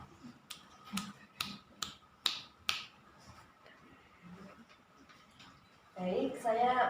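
A classroom of students applauds group 2, the clapping rising loud and dense near the end after several sharp isolated snaps or claps earlier over a quiet room.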